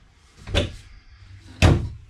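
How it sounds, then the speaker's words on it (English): A pocket door in the bathroom of a 2020 Grand Design Reflection 315RLTS travel trailer slides along its track, making two short rolling thumps about a second apart, close and moderately loud. "Really nice pocket door."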